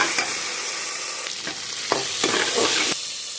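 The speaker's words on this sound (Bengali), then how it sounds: "এবার দেব আদা রসুন পেস্ট, সবটা দিয়ে দিলাম।" Ginger garlic paste frying with potatoes in a pan, a continuous loud sizzle broken by several scraping stirs of a spatula, close and without talk.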